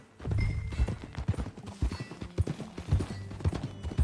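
Horse hooves clip-clop steadily on a dirt trail in the Red Dead Redemption 2 video game, a regular rhythm of close, distinct hoofbeats running the whole time with faint ambient sound underneath.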